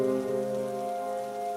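Rain falls through the night as a sound effect in an animated horror story, a smooth steady wash under a low tonal musical drone, with no voices.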